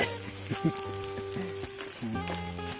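Food stir-fried in a pan over a primitive cave cooking setup gives a light sizzle with scraping and stirring, partly covered by sustained tonal sounds that start and stop.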